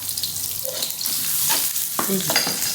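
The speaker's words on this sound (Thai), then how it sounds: "หอมเจียวหอมนะคะเดี๋ยวเราไปเจียวหอมก่อนค่ะ" Shallots frying in vegetable oil in a wok, a steady broadband sizzle with scraping stirs and clatter of the utensil throughout, fairly close and without talk.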